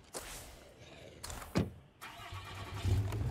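A car engine starting in the video game State of Decay 2: a door-like thud and a brief cranking whine, then the engine catches and settles into a low rumbling idle, close and moderately loud.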